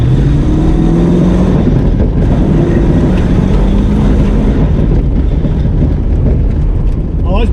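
A Toyota Cressida's engine rises and falls in pitch under load while cruising streets in Alice Springs, a loud, close drone with road noise, and a voice speaks over it briefly.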